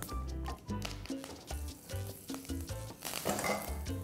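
Curry leaves hit hot ghee already holding mustard seeds, asafoetida and cloves for a tempering, a steady close crackling sizzle with spattering pops and no talk.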